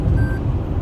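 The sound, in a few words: Toyota Camry lane departure alert warning beep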